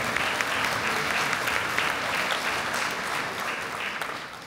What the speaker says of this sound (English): we can clap it up for that